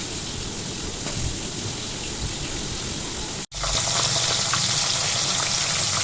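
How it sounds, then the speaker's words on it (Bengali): Lata fish frying in a pan gives a loud, continuous, dense sizzle that drops out for a split second partway through, then resumes slightly brighter. "তো এখন মাছগুলো ভেজে নেব তারপর রান্নাটা করে নেব"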